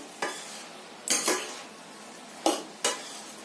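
A utensil scrapes and clinks against a pot of cooking cabbage in four separate short strokes, close and fairly quiet, with soft silence between them.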